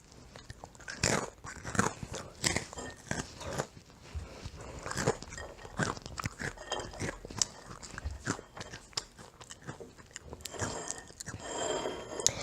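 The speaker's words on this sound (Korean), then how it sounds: "바삭바삭한 오레오 같은 소리가 나고요" Close, loud crunching and chewing of a Hershey's chocolate crunch snack, crisp like an Oreo: dense irregular bites and chews continuing steadily throughout with no talking.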